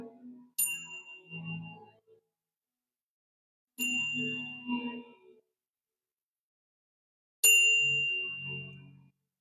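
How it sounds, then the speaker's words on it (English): Three separate strikes of a bell ring out clear and alone, each a bright ding that fades slowly before the next, spaced a few seconds apart against silence. "Don't miss the bell, Gemini, because I totally missed the bell twice there"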